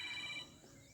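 A mobile phone rings briefly during a yoga class at a health centre in Bhabhua, India, its electronic tone loud at first and then dropping away against quiet room noise.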